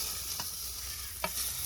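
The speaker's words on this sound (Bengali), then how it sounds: "চল আমাদের মাছ ভাজা হয়ে গিয়েছে, এবার এক এক করে তুলে নিচ্ছি।" Fish fries in oil in a pan at an outdoor village cooking spot, giving a faint, steady sizzle with two brief scraping clinks as pieces are lifted out.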